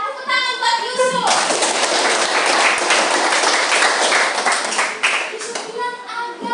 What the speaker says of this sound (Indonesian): Iya, tepuk tangan buat Yusuf